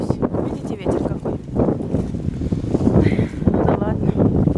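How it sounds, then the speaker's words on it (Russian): Gusty wind on a snowy day in southern Spain buffets the microphone with loud, rumbling bursts while someone talks underneath. "Видите, ветер какой."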